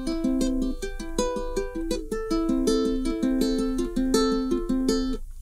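Ukulele plays a song with a Travis fingerpicking pattern, steady alternating plucked notes rolling continuously under the melody, close and clear with no talking.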